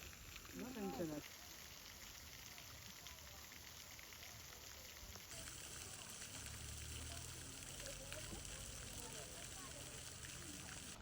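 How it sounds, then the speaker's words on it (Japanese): Steady rainfall hisses evenly throughout, growing a little heavier partway through, with a brief voice near the start, recorded outdoors while travelling in western Japan. "雨だ。"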